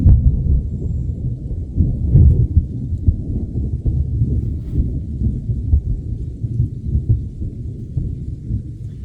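Thunderstorm at Pickett Lake Ogoki Lodge in the Wabakimi wilderness: continuous deep rumbling thunder and steady rain fill the whole span, loud and dense, with swells of low roll and no voices.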